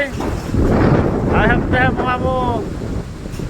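Strong wind gusts from a Kalbaishakhi storm in Talcher roar and buffet the microphone, with a voice talking faintly beneath the rush.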